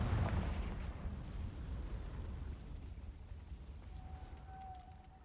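Confringo fire spell blasting in the video game Hogwarts Legacy, a deep rumbling explosion burst that slowly decays into a low roar, followed by a faint ringing tone.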